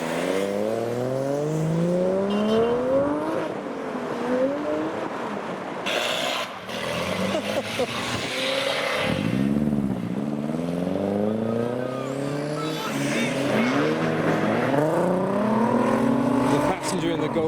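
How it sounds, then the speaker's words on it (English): A modified JZX90 Toyota Chaser leaving a car show accelerates hard through its gears, engine pitch climbing and dropping repeatedly, with other traffic and crowd noise around it. "And now we have a great sounding JZX90 Toyota Chaser."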